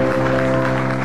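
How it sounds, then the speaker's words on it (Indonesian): Studio audience on an Indonesian comedy talk show applauding, a brief dense burst of clapping blended with a sustained tonal sound, loud and close. "Ya, tepuk tangan."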